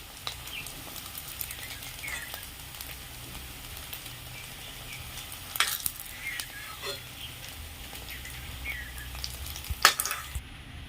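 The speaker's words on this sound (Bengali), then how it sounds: "এইভাবে আমি সব গোটা বড়া ভেজে নেব।" Chhana fritters (cottage cheese vada) frying in hot oil in a Bengali kitchen, a steady soft sizzle with occasional crackles and light clinks of a spoon, moderately close.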